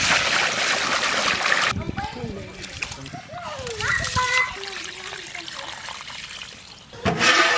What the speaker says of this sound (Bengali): চালটা ভালো করে ধুয়ে নেব।